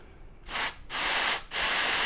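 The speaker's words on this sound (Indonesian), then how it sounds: "Ini terus kita buka injektornya, terus kita semprot sambil ditahan." Cleaner sprayed into a Yamaha Xmax scooter's fuel injector comes in three loud, close hissing bursts, the first short and the next two longer, separated by brief gaps.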